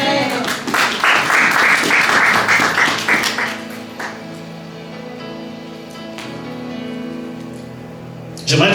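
A church congregation bursts into loud, dense applause for about three seconds, then it quickly fades, leaving a quiet, reverberant room with scattered faint claps and rustling.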